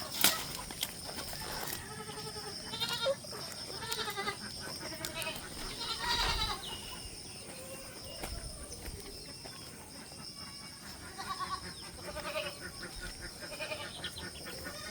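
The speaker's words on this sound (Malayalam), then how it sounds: "വളർത്താൻ പറ്റിയൊരു മലബാരി ആട്." Malabari goats, including a mother and a young kid, bleating repeatedly in a farm setting, moderately near, with background noise and other livestock or birds faintly present.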